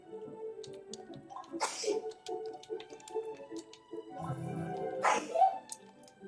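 Two sharp sneezes sound close by, one near the middle and another toward the end, set against a quiet background with light game sounds in between.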